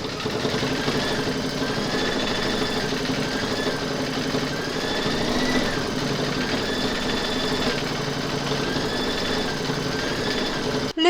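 An embroidery sewing machine steadily stitches stipple quilting on a mug rug, a continuous close mechanical whir with a repeating rhythmic pulse and no talking.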